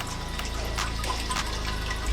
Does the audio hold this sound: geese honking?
no